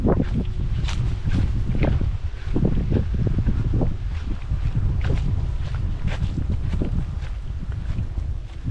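Strong wind buffets the microphone in a continuous low roar with gusts at the Hoysala temple ruins of Belur and Halebidu, with faint rustling and thumps underneath.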